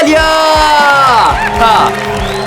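A crowd cheering for a wrestler about to stop a bull, loud whoops and shouts rising under a voice.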